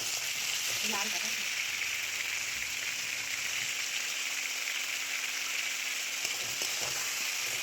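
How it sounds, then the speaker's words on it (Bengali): Stems and mixed vegetables stir-fry in a pan with five-spice and a little salt for a fourteen-vegetable vegetarian chachchari, giving a steady, dense sizzle throughout with a few light utensil clicks near the start. "এবার আমি ডাঁটাগুলোও দিয়ে দিলাম এবার একসাথে সবগুলো কষাবো"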